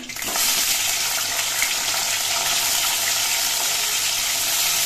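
Brinjal (eggplant) frying in oil gives a loud, dense, continuous rushing sizzle that stays steady throughout.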